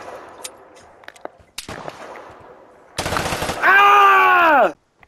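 Automatic gunfire in the PS5 video game Vigor cuts in loudly as a dense burst of rapid shots, followed by a sustained rising mechanical whine, after a stretch of quieter in-game sounds.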